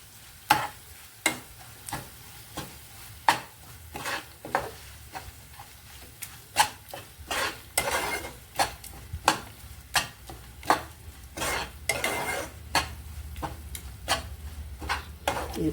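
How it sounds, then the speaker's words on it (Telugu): Ginger, garlic and green chili paste sizzles and fries in a pan for a chamadumpa (taro) curry, with a steady series of sharp spoon-stirring scrapes at a regular rhythm over a low background sizzle, close and fairly loud. "ఇప్పుడు అల్లం వెల్లుల్లి పేస్ట్ వేద్దామండి"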